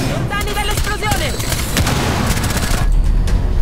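Gunfire in Rainbow Six Siege, a loud, dense burst of rapid shots and blasts over a game soundtrack, with someone talking through much of it.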